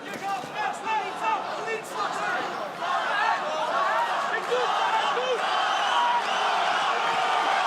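A boxing crowd at a super bantamweight title bout cheers and shouts to urge on fighter Sarah Moussaddak, a steady dense roar of voices with scattered yells throughout.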